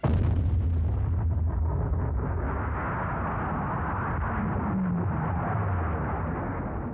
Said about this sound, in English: The USSR detonated their first nuclear bomb.